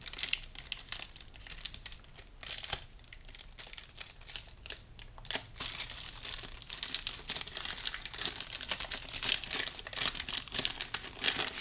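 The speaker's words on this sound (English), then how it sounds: "So let's open up the packaging." Packaging of a Hulkman Alpha85 battery jumper is opened and slid off, a close, continuous run of plastic and cardboard crinkling and rustling with short tearing bursts.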